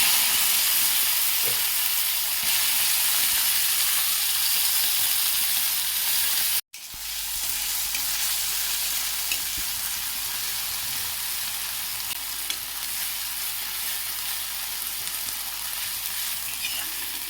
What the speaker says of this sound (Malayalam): ഇതിനി ആദ്യം ഈ എണ്ണയിലൊന്ന് ഫ്രൈ ആക്കിയിടാം